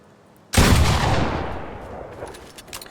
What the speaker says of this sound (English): I'm going to shoot the opponent and then I'm going to reset my wall.